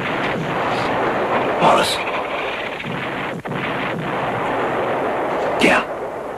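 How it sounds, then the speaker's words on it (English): Artillery shelling on a World War II front line, a continuous rumbling barrage with heavy booms around two and six seconds, a voice speaking briefly over it. "They're shelling our lines."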